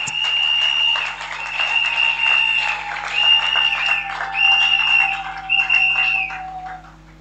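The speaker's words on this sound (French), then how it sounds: "acclame notre Seigneur au nom de Jésus-Christ de Nazareth." A church congregation at a deliverance and prophecy service applauds and acclaims, a dense, sustained clapping crowd with loud tonal shouts and whistle-like cries rising and falling over it throughout.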